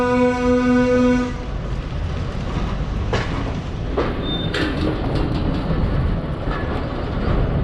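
The Nangal to Bhakra train pulls out of the station, opening with a loud horn blast for about a second, then a steady close rumble and wheel clatter with occasional sharp clanks.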